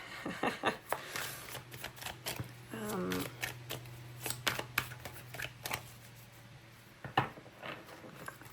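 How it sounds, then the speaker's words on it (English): Tarot cards are shuffled by hand in a quiet room, with a soft electric fan humming behind: irregular crisp riffles and slaps of the deck, with a few louder snaps, close and clear without speech. "I'm just shuffling"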